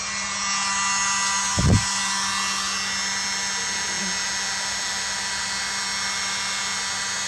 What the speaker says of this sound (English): Here goes my mighty little leaf blower.